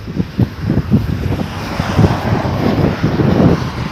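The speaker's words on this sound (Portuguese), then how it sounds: "Ele pega muito vento lateral da direita para a esquerda, está ventando bastante." Strong crosswind buffets a Fimi X8 SE drone in flight, a steady loud rushing roar with gusty low rumbling pulses throughout, no voices.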